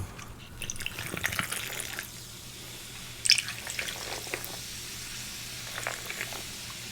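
Club soda poured over ice into a glass for a maple old fashioned, a close, steady fizzing pour with a brief clink of ice partway through, no talking.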